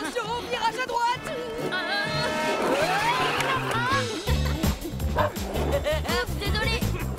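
Cartoon dog barking and yipping in a short rapid series, mixed with high whimpers, over lively background music and speaking voices.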